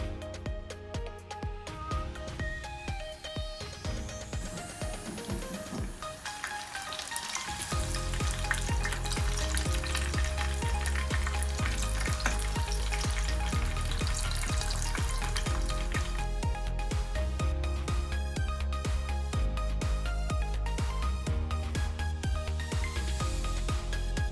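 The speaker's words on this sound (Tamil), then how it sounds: "நான் இப்போ அடுத்ததாக பொரிச்செடுக்க போகிறேன்." Patties deep-frying in hot oil, a loud steady sizzle and bubbling that swells after a quieter start and then holds constant, with occasional clinks of utensils.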